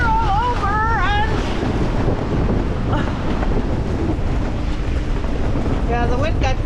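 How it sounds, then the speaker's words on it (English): Strong wind roars across the microphone while rough ocean waves crash against a sailing boat on the open sea, loud and constant throughout, with brief exclaiming voices heard over the wash of water. "the wind got crazier here and the waves"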